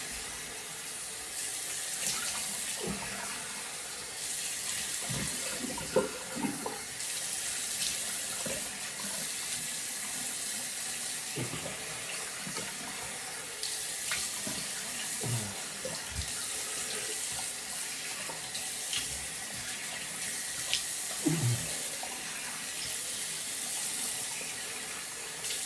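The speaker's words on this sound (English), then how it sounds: "So let's get this rinsed off." A razor is rinsed under a running tap over a sink, with water pouring steadily and evenly throughout, broken by the faint clinks and splashes of the razor being moved and tapped under the stream.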